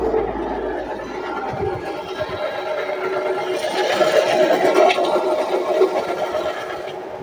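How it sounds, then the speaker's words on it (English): A 2017 Nissan Versa sitting in park makes a continuous harsh, scraping mechanical noise that holds steady and grows slightly louder midway, with no talking over it. "Making that horrible noise in park."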